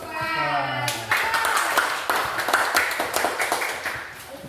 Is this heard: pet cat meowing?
no